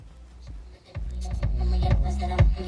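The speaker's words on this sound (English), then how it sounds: "It has a 16 speaker Harman Kardon sound that sounds like this." Music plays through the 16-speaker Harman Kardon audio system inside a Mercedes-AMG GLE 63 S Coupe, with heavy bass and rhythmic beats that grow fuller and louder after the first second.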